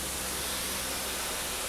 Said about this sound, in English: That noise you can hear is the cylinder cock still open.